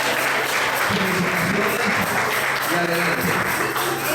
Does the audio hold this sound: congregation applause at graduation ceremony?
yes